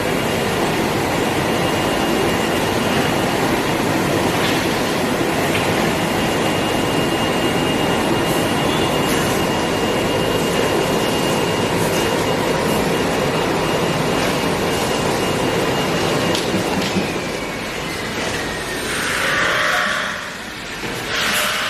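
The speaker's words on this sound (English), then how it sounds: "This is our pre-insulated duct cutting machine." A Ventech pre-insulated duct cutting machine runs with a loud, steady mechanical drone and hiss that holds for about twenty seconds before easing slightly near the end, with no talking.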